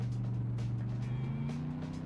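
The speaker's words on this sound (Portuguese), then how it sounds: "O ronco do motor é inebriante, é incrível mesmo, diferente do som de qualquer carro que eu já dirigi." A JDM car engine with triple carburetors rumbles and revs, its pitch climbing slightly, heard close and steady with no talk.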